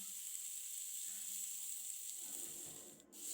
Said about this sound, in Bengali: তারপর কিছুক্ষণ ভালোভাবে ভেজে নিয়ে ম্যারিনেট করে রাখা মাংসগুলো কড়াইতে